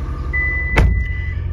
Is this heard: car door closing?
yes